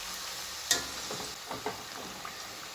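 Papdi snacks fry in hot oil with a steady soft sizzle, broken by a sharp clink as they are turned and a few light stirring taps, close and quiet.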